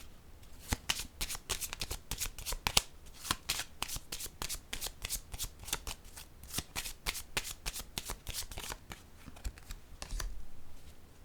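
Tarot-style cards handled during a reading: a long run of crisp, close shuffling and riffling snaps, dense and rhythmic, with quick card flicks and slaps laid down, no talking.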